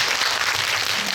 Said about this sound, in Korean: 박수 한번 부탁드릴게요